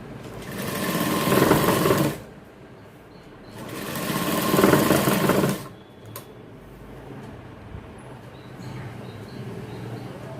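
Sewing machine stitching jacket lining in two loud, rapid bursts of about two seconds each, separated by quieter pauses with faint handling noise between runs.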